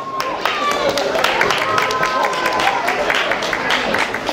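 A festival crowd applauds prize winners at a town days event, with dense, steady clapping close up and continuous under a speaking voice.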